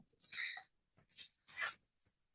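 Pen or chalk writing out algebra examples during a lesson, several short scratchy strokes separated by brief pauses, close and fairly quiet with no talk.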